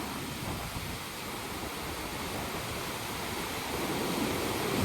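Rushing water of the Mississippi River at Almonte, Ontario, a steady, dense roar of broadband noise that holds constant and swells slightly louder toward the end, with no voices present.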